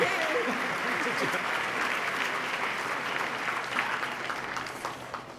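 Sustained audience applause fills a hall at the 2014 New York State of the State address, a dense, steady wash of many hands clapping from start to finish.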